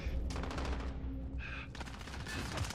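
Rapid automatic gunfire rattles in a video game, with dense bursts running through most of the moment. A short pause falls near the middle before the firing resumes. It is fairly quiet overall.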